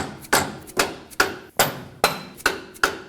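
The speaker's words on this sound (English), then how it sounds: "I'm gonna go ahead and use a rubber mallet just to line this up." A rubber mallet strikes a front lower control arm on a 2017-2024 Nissan Armada into alignment: seven firm, evenly spaced blows about half a second apart, each a sharp thud with a short ringing decay, no voices.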